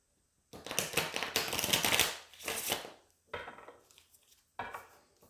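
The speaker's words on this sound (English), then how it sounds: "Notice I'm trying to shuffle a little more off the table" Tarot or oracle cards are shuffled by hand just above a table, a long riffling rustle followed by several shorter shuffling bursts separated by pauses, close and clear with no talking.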